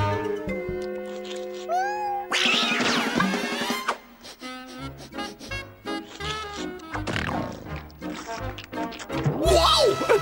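A cartoon kitten meows in several rising and falling calls over busy music and sound effects, with a voice speaking at moments.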